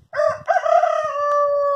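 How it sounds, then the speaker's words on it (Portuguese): A rooster crows nearby, one loud, drawn-out cock-a-doodle-doo with a rising start and a long sustained tail, heard alone in a chicken yard. "Olha o cantar do galo, que bonito."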